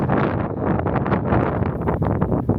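Strong, steady wind buffets the microphone on a hilltop hiking trail at Morro do Macaco in Bombinhas, a loud continuous roar with gusty surges and rumbling, no voices.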